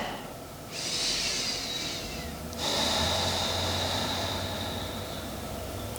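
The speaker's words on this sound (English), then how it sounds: "Take a breath." A deep, drawn-out breath taken during a yoga stretch, a long airy inhale and exhale heard up close and fairly loud against a quiet room, with no talking.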